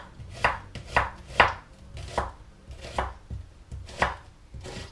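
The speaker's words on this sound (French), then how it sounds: "On les coupe en deux. Et après, on va simplement faire des lamelles." A knife slices halved onions into thin strips on a cutting board, with soft, evenly spaced chops about every half second, close and fairly quiet, with no voices.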